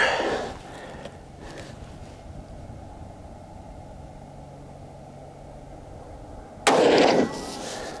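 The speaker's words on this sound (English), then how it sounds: "Oh, that shot felt better." One loud, close rifle shot from a CZ X39 firing Golden Tiger 124 grain ammunition at an outdoor range, a sharp blast with a short ringing tail after several seconds of quiet background.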